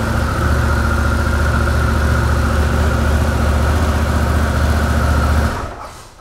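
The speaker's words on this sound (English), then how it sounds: "you press it once and the bike fires up" Harley-Davidson Pan America motorcycle engine idling with a steady, loud throbbing beat, close up and with no talk, until the engine is cut and the sound falls away at the end.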